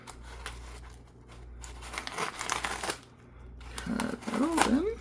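Cutting open a parcel package, bursts of crinkling, tearing and scraping that come and go in irregular spurts, fairly close and moderately quiet, with a voice briefly murmuring near the end.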